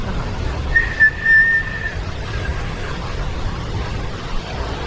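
On the Eyre Peninsula's west coast, wind through holes in a whistling rock gives a brief, faint, high whistle that rises over steady wind and surf noise for about a second, then fades.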